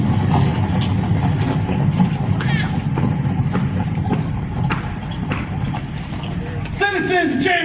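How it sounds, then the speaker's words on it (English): Many horses approach at a Civil War reenactment of the Burning of Chambersburg, Pennsylvania, their hooves clopping in a dense, continuous rumble alongside an idling engine, while people talk over the crowd noise. "I hear horses. Many, many horses."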